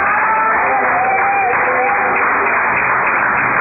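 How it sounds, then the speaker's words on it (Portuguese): A church congregation claps hands during a sermon, a continuous dense patter heard through a narrow, radio-like channel, with voices mixed in. "Vocês batem palmas nas aulas de Jesus."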